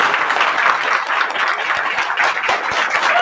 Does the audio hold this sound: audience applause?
yes